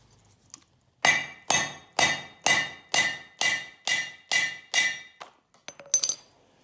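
A hammer strikes a rivet on a sickle bar set against hardened steel, nine sharp, ringing metallic blows at an even, steady rhythm, close and clear, followed by a few lighter clinks.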